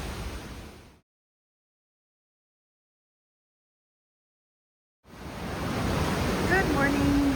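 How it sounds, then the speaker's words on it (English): Open sea in the South Pacific seen from a cruise ship days from the South American coast: a steady, full wash of waves and wind rushing, broken by a long silent gap before the surge returns, with a faint tone briefly audible. "We've left the coast of South America and we're in the South Pacific Ocean."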